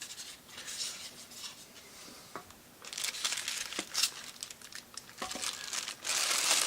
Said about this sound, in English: Take it out of the clear plastic bag that we got here.